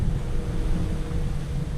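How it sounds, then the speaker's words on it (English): Strong wind of about 30 knots gusting 40 roars over a sailboat at sea during an Atlantic crossing, a steady low rumbling buffet with no breaks. "the wind is at 29 to 30 knots,"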